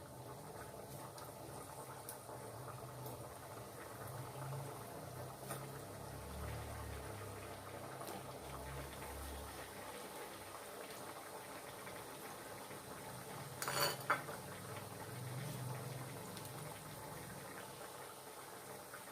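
Thick thekua dough pieces frying one by one in oil on a low flame, a faint, steady bubbling and gentle crackle that runs continuously, with a brief louder clatter partway through.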